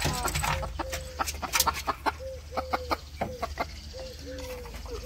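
Backyard chickens in rural Bangladesh during the rainy season cluck repeatedly and close by, with short, choppy bursts and drawn-out tonal calls over a low background rumble.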